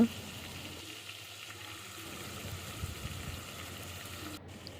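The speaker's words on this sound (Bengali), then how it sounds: "দারচিনি দিয়ে পেঁয়াজ কুচি পেঁয়াজ কুচি ভালোভাবে ভেজে নিব" Chopped onion frying in oil with cinnamon sticks and white cardamom gives a soft, steady sizzle with faint stirring and some low background rumble.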